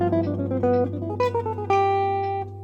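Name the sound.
electric guitar phrase played with speed picking shapes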